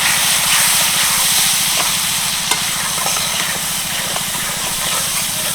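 Spices such as Kashmiri chilli powder, black salt and sugar stirred in a hot pan for brinjal pickle, giving a steady close sizzling hiss with faint scraping under a low hum, and no talking.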